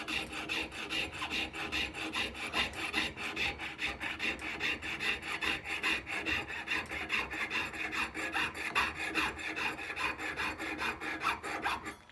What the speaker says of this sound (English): I want your saw blade straight up and down, or the whole saw.